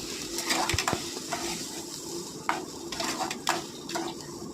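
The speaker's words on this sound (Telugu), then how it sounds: "మసాలా పచ్చివాసన పోయే వరకు వేపుకోవాలి." Masala paste for a Telugu-style fish curry fries in oil with onions, green chilies and tomato, scraped and stirred by a metal spoon that clinks against the pan in scattered knocks over a low, steady sizzle.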